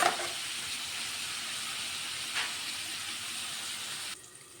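Sliced ridge gourd frying in a pan gives a steady, soft broadband sizzle that holds evenly, with a brief flare midway, then drops quieter near the end.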